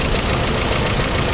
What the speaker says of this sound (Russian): Часто вы видите, что двигатель стоит и работает без масла?